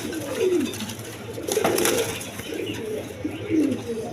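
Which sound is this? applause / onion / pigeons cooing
pigeons cooing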